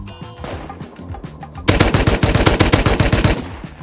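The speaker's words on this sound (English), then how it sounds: "These guys are sending so many rockets into this thing." Rapid explosive fire from rockets hitting a base in a survival video game, sparse bangs giving way to a loud, dense burst of repeated blasts that runs for about two seconds.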